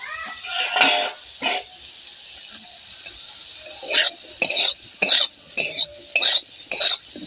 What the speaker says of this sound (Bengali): বেগুনটা আমি লাল লাল করে ভেজে নেব